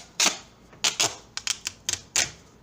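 Black duct tape is torn and cut in a series of short, sharp crackling bursts, about six quick separate strips of sound, close and fairly loud with no talking.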